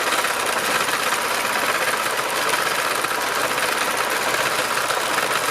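Sewing machine running fast and continuously during free machine embroidery with a hoop, a steady close whirring needle chatter with no pauses and no talking.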